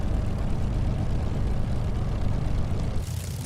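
Spitfire engine in a flight simulator, throttled right back to idle after warming up: a steady, low, rumbling drone holding evenly throughout, close and continuous, briefly thinning near the end.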